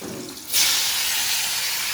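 Fish frying in a hot pan, bursting into a sudden loud, steady sizzling hiss close by after a quieter moment.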